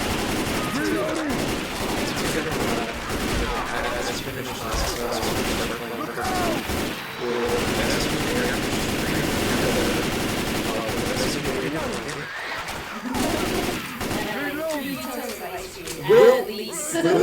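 Sustained gunfire from the video game Left 4 Dead 2 during a finale: dense, rapid automatic shots and bursts run almost without a break, loud and close, with voices talking over the shooting.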